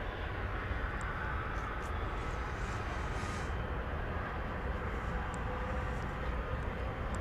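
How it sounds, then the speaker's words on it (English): An American Airlines Airbus A321 coming in to land at DFW airport on a flight from Seattle, giving a steady, sustained jet roar with a deep rumble that holds even throughout, with no voices over it. "we have flight 1992 coming in from Seattle. This will be an Airbus A321, American Airlines."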